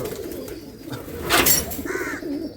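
Pigeons of the Giribaz breed coo nearby in a short burst, soft throaty calls over a busy background murmur.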